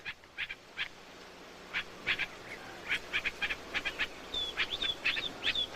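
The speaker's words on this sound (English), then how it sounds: "Birds abound at En-Gedi." Wild birds at En-Gedi near the Dead Sea give short, bright chirps in an irregular repeating series, moderately faint over quiet outdoor background noise.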